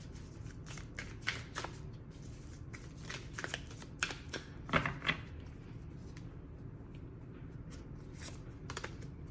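Threads of Fate oracle cards are shuffled by hand in repeated quick riffling bursts, soft and close, with brief pauses between flurries.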